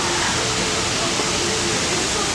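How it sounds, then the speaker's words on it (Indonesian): A tall waterfall sends up a loud, steady rush of falling water that stays constant throughout. "Tuh air terjunnya tinggi banget tuh sampai ke bawah."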